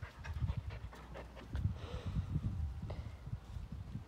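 A female puppy pants rapidly and steadily close by, quick rhythmic breaths in and out continuing throughout, with faint shuffling in the background.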